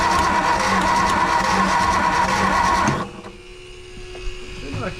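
A 1957 Ford Fairlane 500 engine, suffering from disappearing pushrods, turns over with a loud, steady mechanical whir for about three seconds, then stops abruptly, leaving faint clicks and quiet background noise.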